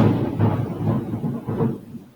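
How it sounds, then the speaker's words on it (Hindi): Thunder rolls from the clouds as a deep, loud rumble that swells and fades in waves, with no talking over it. "बादल तो बहुत अच्छे से गरज रहे हैं आज"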